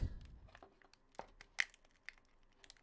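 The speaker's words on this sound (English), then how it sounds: "So now we can pull the adhesive back" Adhesive peeling away from the back glass of a Samsung S10 phone gives off faint, sparse crackles and small tearing snaps. The snaps are scattered irregularly over a few seconds, with one sharper crack near the middle.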